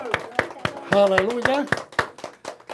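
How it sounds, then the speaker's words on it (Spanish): A church congregation at a Shabbat service claps in rhythm while people call out and sing over it, with the sharp claps spaced steadily, loud and close, mixed with voices. "Un aplauso."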